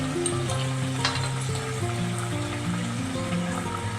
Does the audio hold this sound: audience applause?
no